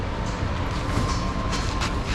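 A train at Aguas Calientes station in Peru, a loud, steady low rumble of rolling cars with a continuous mechanical rattle, close and constant throughout, with no voices.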